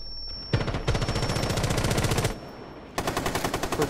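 Rapid automatic gunfire in a shooter video game comes in two long, loud bursts of fast, evenly spaced shots, close and dense, with a short pause between them and no talking.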